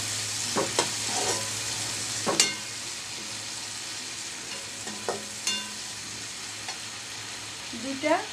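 Five cloves' worth of chopped garlic fry in a pan with no onion, a steady faint hiss broken by a few sharp scrape and clink sounds from stirring, with no voices.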